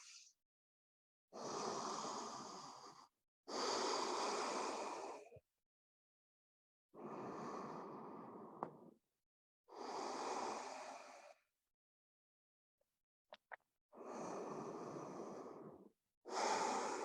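Slow, deep breaths during a yoga forward fold in a morning routine, about six long breaths in steady rhythm with pauses between them, close and clear, with no talking.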